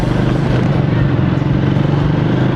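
Loud, continuous motorcycle engine drone while riding, a steady close rumble with wind noise throughout.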